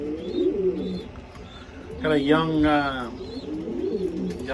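Pigeons coo in soft, repeated rolling calls close by inside a loft, while someone speaks briefly over them.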